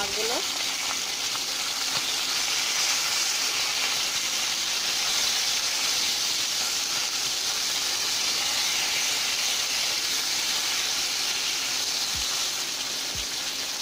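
Sarputi fish and okra fry in oil in a pan, giving a steady, even sizzle and hiss that runs without a break from start to finish.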